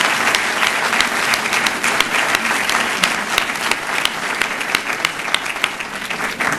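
Audience applause at a 2007 Middle East conference session on global citizenship, philanthropy and activism: steady dense clapping from a large hall, sustained and fairly loud throughout with no voices over it.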